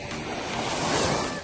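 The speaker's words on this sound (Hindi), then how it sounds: "बस ये लहरें इतनी छोटी छोटी हैं" Small waves break gently on a beach at Ras Al Khaimah, making a continuous soft wash of surf mixed with rumbling wind buffeting the microphone.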